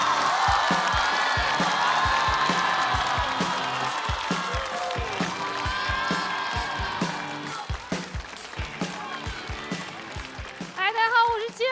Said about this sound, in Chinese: 掌声有请亲友